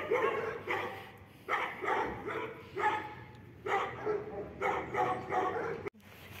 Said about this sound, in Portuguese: tem os cachorros latindo para ele